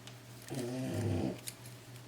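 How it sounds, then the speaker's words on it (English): A single low, rumbling snore from a dog, close and drawn out for under a second, then quiet breathing noise. "Sorry about my dog snoring."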